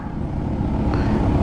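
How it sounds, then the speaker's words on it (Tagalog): Steady road noise from many motorcycles streaming past, a continuous dense engine hum without a single distinct pass-by. "Puro motor, ang daming motor."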